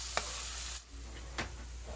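Tofu fries in a pan with teriyaki and spices, a steady close sizzle broken by a couple of brief stirring scrapes.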